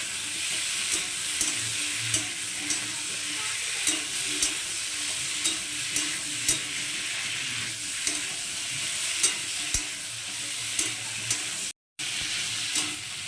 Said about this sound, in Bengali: এই পর্যায়ে আমি কুমড়োটাকেও দিয়ে দিচ্ছি এগুলো সব একটু ভালো করে কষিয়ে নেবো